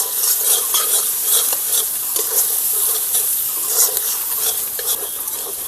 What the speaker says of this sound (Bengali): দিয়ে মশলাটাকে আবারও একটু নাড়িয়ে নেব।